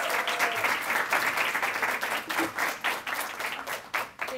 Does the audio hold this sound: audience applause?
yes